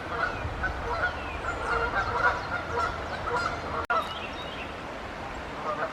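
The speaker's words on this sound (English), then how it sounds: "These are merganser ducks. Common merganser ducks." Common merganser ducks, male and female, give repeated nasal honking calls in an outdoor setting near the Great Smoky Mountains, clustered and moderately close, with a brief sharp click partway through.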